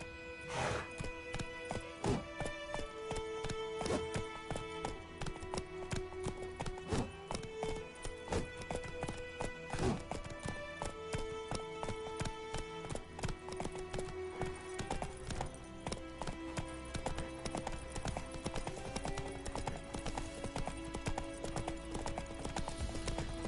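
Hooves clip-clop in a fast, steady galloping rhythm as a horse runs in The Witcher video game, loud and continuous throughout, with game music tones layered underneath.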